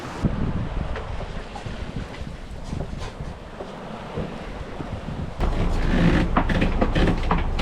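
A sailboat under full mainsail crossing the Coral Sea from New Caledonia toward Australia, with constant loud wind rush over the microphone and water wash along the hull, swelling louder in the final seconds.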